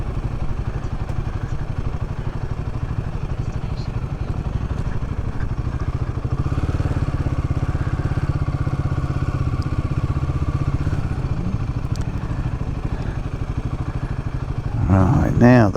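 A motorcycle engine while riding out to a busy stop, a steady loud drone with low rumble and rattling wind noise throughout, rising briefly near the end, with someone talking over it.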